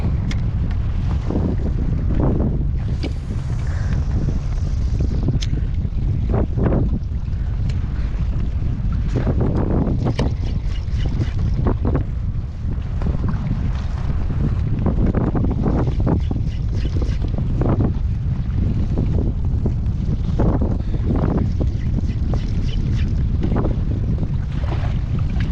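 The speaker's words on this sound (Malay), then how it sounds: "Belah kita ni pun angin boleh tahan ni." Strong wind rushes over a kayak at sea, loud steady low roaring and gusting buffets on the microphone lasting throughout, with no voices.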